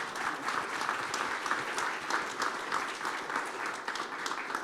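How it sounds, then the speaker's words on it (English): Conference audience at Purdue University applauding after a panel discussion, sustained crisp clapping from many hands with slight pulsing, heard alone at a moderate, somewhat distant level. "Will you please join me in a round of applause for our great panelists here today?"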